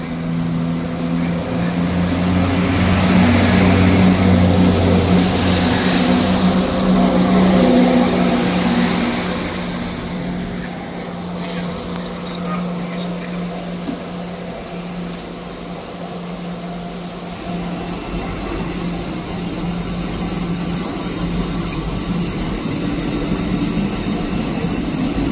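A Scotrail service pulling out of Edinburgh Haymarket bound for Perth, a sustained low engine drone that swells early, then eases into a steady rumble, with no voices.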